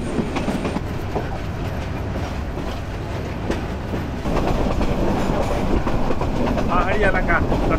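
A passenger train in hilly country near Chittagong, heard from inside a carriage, rumbling loudly with a steady clickety-clack of wheels on rails and a brief squeal near the end, voices faint beneath.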